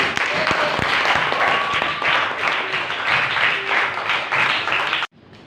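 Classmates applaud a student group after its classroom presentation, with dense, fairly loud clapping and a few voices that run for about five seconds before cutting off abruptly.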